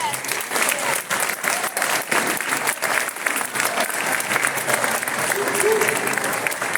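Audience at a youth graduation ceremony applauding the graduates with steady, dense clapping that fills the room and holds at an even, loud level throughout.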